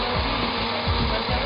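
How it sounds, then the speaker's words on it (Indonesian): A burr grinder-style blender grinds roasted coffee beans, a loud, steady whirring roar with a rough, gritty texture that holds throughout, close up and without talking. "Kemudian kita blender, ini akan sama aja sampai mendapatkan kehalusan yang kita inginkan."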